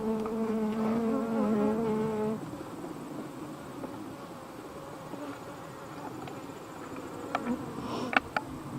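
Honey bees buzz around a beehive with a steady, droning hum that is strong and tonal for the first couple of seconds, then settles into a softer, diffuse swarm buzz. A few faint clicks come near the end.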